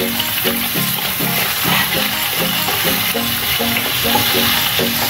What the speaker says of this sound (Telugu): మనం కట్ చేసి పెట్టుకున్న ఈ సాసెస్ వేసుకుని ఫ్రై చేసుకుందాం